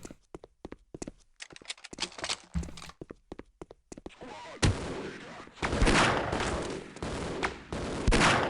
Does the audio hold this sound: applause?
no